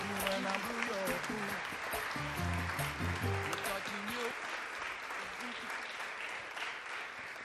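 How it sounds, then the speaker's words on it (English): Audience applause at a data festival plenary session, continuous dense clapping throughout, with voices and a few tonal sounds in the first half. "Big round of applause for them."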